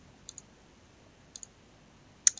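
Three sharp computer mouse clicks at roughly even gaps while an inventory search is run, the last one loudest, close and isolated against a quiet room with no talking.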